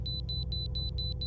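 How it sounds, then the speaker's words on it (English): A weigh station inspection alert in American Truck Simulator gives a series of six evenly spaced high electronic beeps over a steady low engine hum from the truck. "That beep always scares me when it does this"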